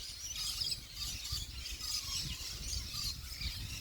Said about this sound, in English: Listen to those birds.